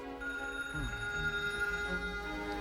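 A telephone bell rings steadily and fairly loudly through a film drama scene, with a sustained ringing tone over low background music and no voices.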